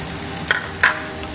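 Cardamom and cloves frying in hot oil in a pan for a chicken curry, a steady sizzle broken by two quick scraping stirs of the spoon.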